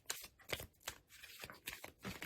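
Plot cards for a tabletop game are shuffled in several quick riffles close by, with soft rhythmic papery bursts and brief pauses between them.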